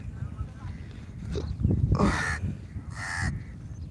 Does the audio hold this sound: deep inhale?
no